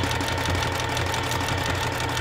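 A sewing machine stitches seam tape in a continuous, loud, even mechanical whir that holds steady throughout with no pauses.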